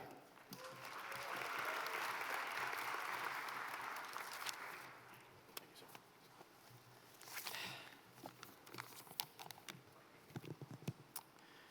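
Applause from a ceremony audience at a swearing-in event, a broad wash of clapping that swells for several seconds, then thins into scattered claps and light rustling.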